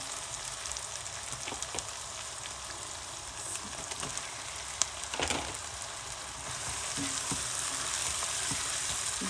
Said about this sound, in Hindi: गोश्त को इसमें थोड़ा सा हम हिला जुला लेते हैं